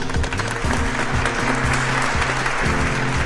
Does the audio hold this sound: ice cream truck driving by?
no